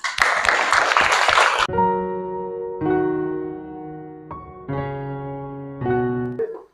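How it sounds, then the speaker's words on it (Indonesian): A short burst of classroom applause for a pupil during a lesson fills the opening seconds, then gives way to sustained tonal notes that rise and fall. "tepuk tangan untuk Aprilia."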